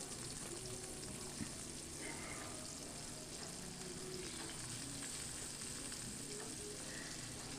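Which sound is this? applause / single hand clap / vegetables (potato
vegetables (potato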